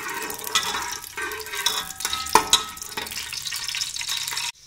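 Ghee heating in a pan on the stove, giving a steady close sizzle with scattered pops and crackles throughout, no voices over it.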